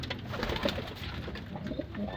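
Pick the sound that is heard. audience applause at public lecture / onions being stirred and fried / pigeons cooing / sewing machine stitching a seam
pigeons cooing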